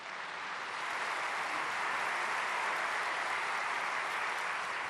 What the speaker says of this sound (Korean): 이제 총회장님 우리 박수로 환영하겠습니다.